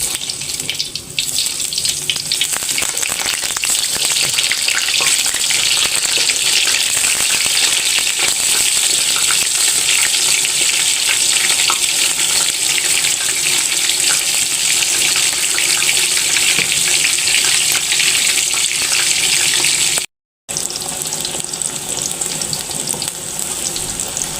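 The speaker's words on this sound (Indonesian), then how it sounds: "Nah, goreng tempe." Tempeh frying in hot oil gives a loud, steady, hissing sizzle that runs on without a break, apart from one brief dropout near the end.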